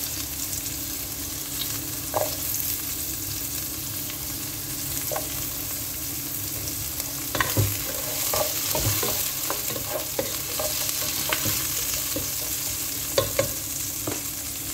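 Onions and ginger sauté in a pan for mussels, giving a steady sizzle and frying hiss, with occasional clinks and scrapes of stirring.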